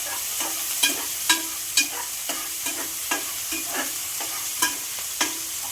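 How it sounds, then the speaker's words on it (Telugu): Onion pieces and green chilies frying in oil in a pan, with a soft continuous sizzle under repeated sharp clinks and scrapes of a spoon stirring, about a dozen taps spread unevenly. "ఉల్లిపాయ ముక్కలు, పచ్చిమిర్చి వేసి ఫ్రై చేసుకోవాలి."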